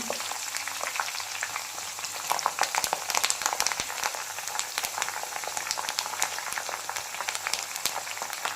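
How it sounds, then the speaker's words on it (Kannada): Oil for homemade herbal hair oil bubbles and sizzles in a pan as herbs such as curry leaves are added, giving a steady, fairly soft crackle with scattered sharper pops. "ಎಣ್ಣೆ ಕುದಿತಾ ಇದೆ"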